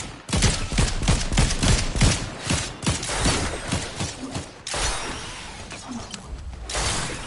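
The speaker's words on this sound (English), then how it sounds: "Oh, shooting behind us." Video game gunfire crackles in rapid bursts, loud and close for several seconds, then thins into scattered shots with mechanical clatter, with no talking.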